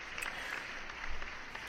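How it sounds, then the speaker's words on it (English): An audience gives a short round of applause, a faint, distant patter of clapping that swells slightly midway and lasts under two seconds. "We need a little round of applause here"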